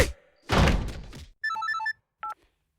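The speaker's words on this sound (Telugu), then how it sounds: "ఫోన్ రింగ్ అవుతుంది" A soft thump and a burst of rustling noise give way to a short electronic phone ring, a pause, then one more brief ringing chirp.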